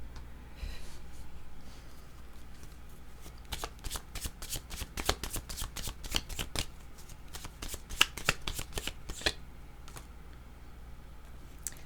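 A deck of cards being shuffled before one is drawn, with a quiet start and then a rapid sequence of sharp riffling flicks close up that eases off into stillness.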